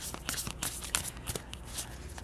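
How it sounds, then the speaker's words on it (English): A new tarot card deck is shuffled by hand, giving a steady run of soft, close riffling and flicking card sounds with small papery taps, and no talk over it. "I was shuffling the cards and I shuffled one side upside down somehow"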